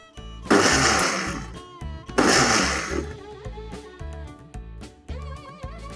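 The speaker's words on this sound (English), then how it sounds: "This needs to be ground into a smooth powder" A blender grinds sesame seeds into powder in two loud, harsh bursts, then runs more unevenly with rattling and clattering as the contents shift, close and loud throughout.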